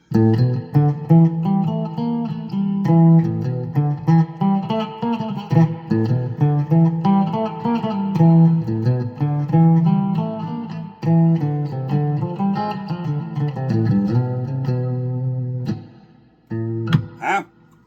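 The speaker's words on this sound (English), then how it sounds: "Turn the reverb up. You guys hear what that sounds like?" An electric guitar rings out through a Crate GX900H amp on its clean channel with heavy reverb, sustained chords and notes blooming and trailing off, loud and continuous, ending with a few sharp plucks.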